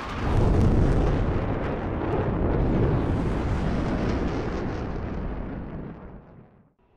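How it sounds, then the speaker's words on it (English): A deep, rumbling explosion roars from the start and holds for about six seconds before fading out, set among the air-to-ground weapons of the DCS F-16C flight simulator game. "See the 2 explosions out there."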